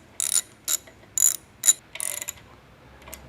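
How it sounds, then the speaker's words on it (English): A 1-inch by 3/8-16 locking bolt being snugged into a bench grinder head with a ratchet: five short, close bursts of ratcheting clicks, then a faint final click, with no talk. "we're going to put in the locking bolt for the grinder head"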